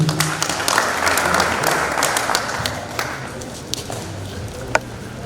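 A crowd at a club gathering breaks into sustained applause, a dense wash of many hands clapping that gradually thins out, with a few sharper individual claps near the end.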